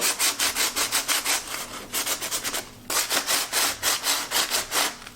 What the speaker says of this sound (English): So I'm going to start with the rougher, and then we're going to like take a bunch of this off.